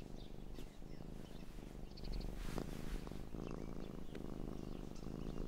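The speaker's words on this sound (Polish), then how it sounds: "On mruczy, czyli jest mu dobrze." A cartoon cat purrs contentedly, a soft, steady low rumble that runs throughout, growing slightly louder midway, with a few faint high chirps above it.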